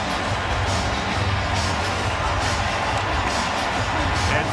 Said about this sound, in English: Look at the crowd indeed.